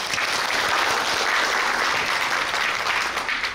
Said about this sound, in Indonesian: Kita kasih aplaus dulu dong buat Ibu Hera.